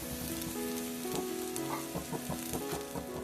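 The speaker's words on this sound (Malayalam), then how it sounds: "ചെറിയൊരു ബ്രൗൺ കളർ ആവുന്നത് വരെ കശുവണ്ടി ഒന്ന് മൂപ്പിച്ചെടുക്കാം" Cashews sizzling in a pan while browning for modakam, a steady close frying hiss with a few light clinks and stirring scrapes throughout, no voices.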